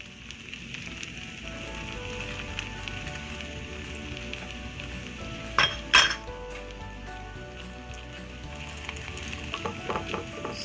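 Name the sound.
chicken strips frying in a pan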